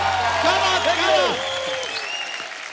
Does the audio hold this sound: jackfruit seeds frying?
no